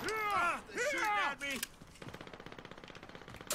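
Video game gunfire: after a stretch of loud talking, a fast, steady automatic burst of shots rattles on for well over a second, close and even in rhythm.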